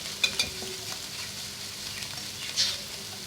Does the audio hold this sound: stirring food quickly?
yes